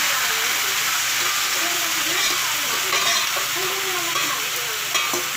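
Marinated pork fries loudly in a pan with a dense, constant sizzle, while a voice speaks faintly underneath.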